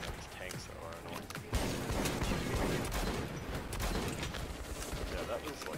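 Rapid video-game gunfire crackles loudly and continuously, a dense burst starting about a second and a half in and running to the end, with a player's voice talking over the shooting.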